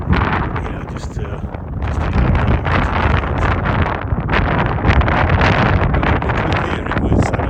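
Strong wind buffeting across the exposed gritstone escarpment of Stanage Edge in the Peak District, a loud continuous roar of gusting air battering the microphone with little letup.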